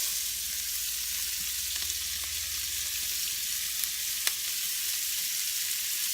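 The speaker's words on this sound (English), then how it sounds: "And I'm going to saute the celery." Celery sauteing in butter in a pan gives a steady, even sizzle with faint occasional clicks of stirring, close and continuous with no voices.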